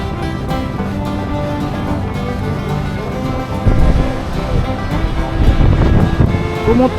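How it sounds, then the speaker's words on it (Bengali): Stormy Bay of Bengal surf crashes at Kuakata beach after a cyclone, with strong wind buffeting the microphone; a loud, continuous roar that swells heavier partway through. "আর কি পরিমাণ স্রোত, কি পরিমাণ ঢেউ দেখেন, ভয়ঙ্কর অবস্থা"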